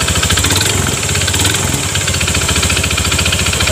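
A Honda Beat FI scooter engine idling close up, a steady rapid throb with a rough, rattling knock running through it, loud and continuous with no talk.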